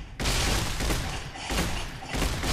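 Loud, close gunshots in Fallout: New Vegas, three heavy booming blasts at uneven intervals, each followed by a sustained roar of noise, with no talking.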